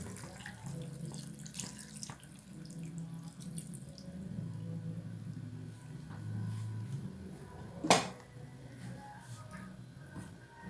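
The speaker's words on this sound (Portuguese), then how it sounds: "Vou colocar 200 ml de leite de coco." Coconut milk, 200 ml, poured into a pot while cooking a salt-cod moqueca: a soft, steady liquid trickle heard close but faint, with a brief clink near the end.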